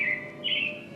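Robins chirping outdoors, two bright high tweets a short gap apart, clear and fairly close over a quiet background.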